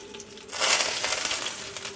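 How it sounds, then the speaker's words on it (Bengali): Fenugreek seeds hit hot oil with dried chillies and a bay leaf, setting off a sudden loud sizzle that swells after a quiet start and then crackles steadily. "1/2 চামচের মতো মেথি ফোড়নে দিয়েছি।"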